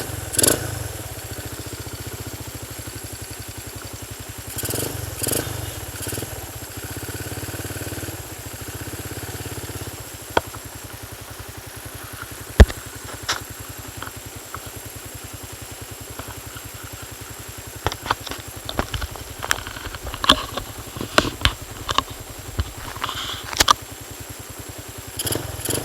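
A Honda C70 motorcycle fitted with a Satria FU150 engine, idling steadily nearby with a low, even chugging hum, sharp clicks and clatter scattered over it, and no speech.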